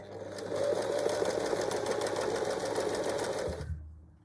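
Sewing machine stitching a cushion cover, one continuous fast whirring run of nearly four seconds that stops abruptly, close and steady with no talking.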